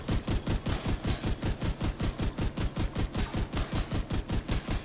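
Rapid automatic gunfire from a weapon in the Destiny video game, a steady stream of about five shots per second, loud and close, running alone without talk.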